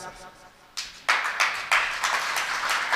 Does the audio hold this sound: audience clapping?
yes